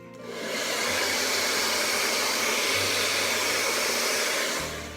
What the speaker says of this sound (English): I just used my hairdryer to blast the hair away